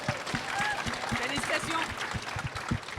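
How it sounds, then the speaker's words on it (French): An audience at a Comic Con podcast quiz applauds a winner, scattered clapping mixed with chatter and a host talking over it, moderately close but not very loud. "vous pouvez l'applaudir"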